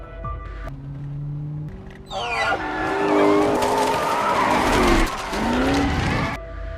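In a film scene a fast-moving car skids, its tires squealing in long loud screeches over a roaring engine, the squeals rising and falling through several bursts with no talk heard.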